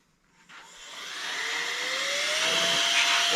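A small handheld hoover vacuum cleaner spins up from quiet to a steady loud whine with broadband airflow hiss, pitch rising as the motor comes to speed, used at a wooden surface during electrical containment work.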